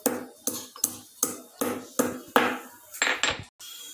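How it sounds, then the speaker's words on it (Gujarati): Cloves, black pepper and cinnamon pounded in a mortar: about eight sharp, evenly spaced thuds with a gritty crunch, close and clear, ending abruptly, with no talking. "મેં લવિંગ, કાળા મરી અને તજ ખલમાં લીધા છે, એને આવી રીતે હાંડી દેવાના છે."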